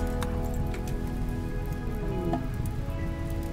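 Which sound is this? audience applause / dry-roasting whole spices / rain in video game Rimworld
rain in video game Rimworld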